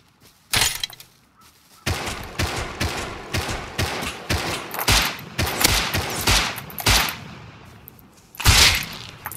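Repeated gunfire during a video game shootout, with sharp loud shots and bursts spaced irregularly among rattling impacts and thuds, close and punchy.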